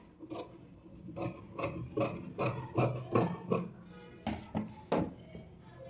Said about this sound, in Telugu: మనము ఇప్పుడు బ్యాక్ నెక్ కట్ చేద్దాం